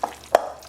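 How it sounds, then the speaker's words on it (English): Two brief utensil strokes stir sour cream into a cooling enchilada sauce, the second louder, with a soft wet scrape trailing after. "and stir it all up"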